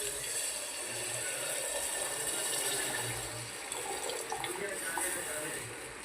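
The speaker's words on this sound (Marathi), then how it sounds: "एक तांब्या पाणी टाकून देऊ." Water from a small pot poured into a cooking pot of tempered spices for khichdi, a continuous close splashing rush that holds steady throughout.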